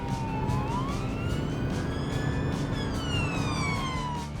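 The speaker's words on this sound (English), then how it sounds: "The sirens and flashing lights are used to help cars all around see and hear the police coming." A police car siren wails loudly and continuously, its rising and falling tone sweeping repeatedly over steady road rumble, with no talk.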